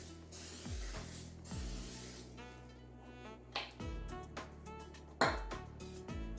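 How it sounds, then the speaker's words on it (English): A 9 by 12 casserole dish gets greased with cooking spray. Hissing bursts come close to the mic, mixed with a few rattles and clicks from the can and dish. "I'm gonna grease my casserole dish."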